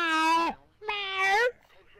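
A person imitates a cat with two drawn-out, closely voiced meows separated by a short pause.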